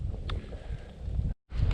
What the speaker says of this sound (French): vu que le vent me souffle dans la figure